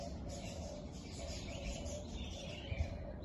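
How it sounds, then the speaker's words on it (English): Birds singing and chirping in a backyard garden, a steady continuous chorus of small calls at moderate distance, with no talking. "I can hear lots of birds around me."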